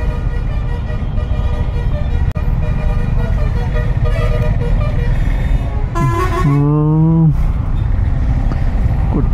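Heavy night traffic in Hyderabad, buses and cars crowding the road, with a loud steady rumble of engines close by, a bus horn blaring in a long wavering blast and a sharp bang partway through.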